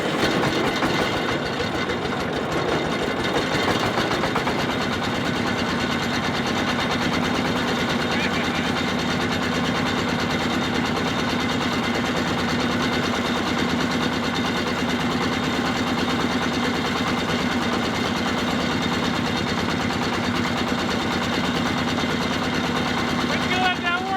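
A cheap Chinese-made wood chipper's engine runs steadily after starting, a continuous mechanical drone with a rattling, knocking texture that holds at even loudness throughout, with a voice speaking over it near the start.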